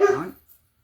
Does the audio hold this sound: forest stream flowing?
no